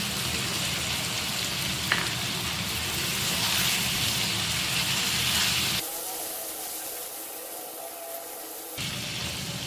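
Tomato paste sizzles as it is added to chicken in a pan for malai chicken handi, a steady broadband frying hiss that drops abruptly quieter for a few seconds before returning.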